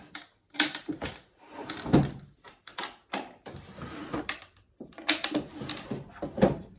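Drawers are pulled open and pushed shut repeatedly nearby, making a run of wooden sliding scrapes, knocks and clunks in irregular bursts.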